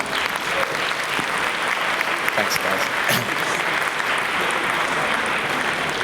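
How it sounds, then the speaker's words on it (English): An audience claps steadily at a tech storytelling panel at Innovfest Unbound 2017, dense and sustained throughout, with a brief spoken thanks over it. "could we please give a round of applause"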